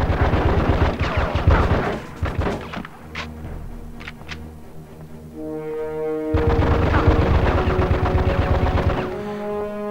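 Rapid gunfire bursts in the video game Die Hard Vendetta, loud and close, with booming shots mixed with game music tones and a second heavy volley after a brief lull.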